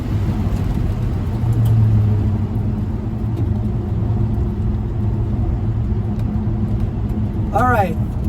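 A 1970 El Camino with a Turbo 400 transmission and Gear Vendors overdrive accelerating, a loud steady engine rumble heard from inside the cab, with a brief voice near the end.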